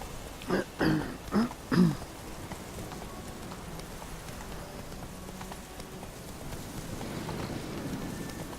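Rain in The Witcher 3: Wild Hunt patters steadily in the background, with a few heavier thuds early on and the downpour growing louder toward the end.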